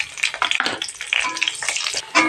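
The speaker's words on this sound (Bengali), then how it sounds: "পেঁয়াজটা ভাজা হয়ে গেছে।" Chopped onion fries in hot oil in a pan while cooking a chicken curry, with crackling sizzles and bursts of spatter and stirring, close and moderately loud, no talking.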